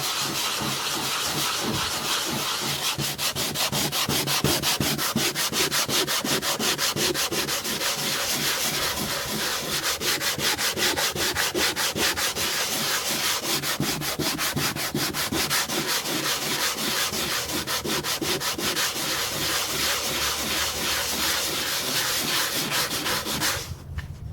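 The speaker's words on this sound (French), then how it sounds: "Plus je ponce, plus je vois la blancheur du dessous qui apparaît, et même peut-être la couche de bois en dessous." Sandpaper worked over a painting, wearing through to a white underlayer and the wooden panel beneath: a loud, continuous, rhythmic rasping scrub at close range, with no talk.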